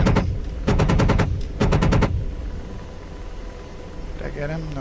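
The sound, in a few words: aircraft cannon firing in the flight simulator game DCS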